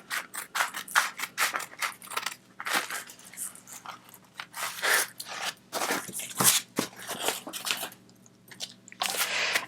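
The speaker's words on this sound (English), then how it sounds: "I'm just going to start by rough cutting it with scissors." Scissors rough-cut silver card stock in a rapid, uneven series of crisp snips and crunches, close up, with brief gaps between bursts.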